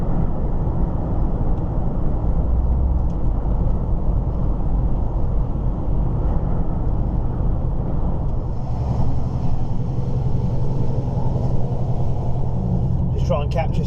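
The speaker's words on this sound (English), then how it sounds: "the mild hill is obviously taxing the DAF somewhat" A DAF car's engine drones steadily as it climbs a mild hill, a continuous low rumble of road and motor noise heard from inside the car, with a slight shift in tone partway through.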